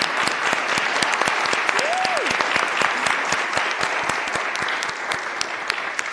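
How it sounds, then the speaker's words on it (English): Round of applause from attendees at a Board of Supervisors meeting, sustained clapping with distinct individual claps standing out nearby, a voice briefly heard over it. "can we all give another round of applause to Myrna Malgar, the first Latina elected on"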